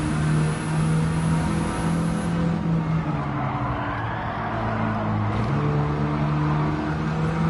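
A turbocharged, fully modified, engine-swapped Mini Cooper in Gran Turismo 7 drones steadily at high revs with small pitch dips during gear changes, continuous and fairly loud, with no talking.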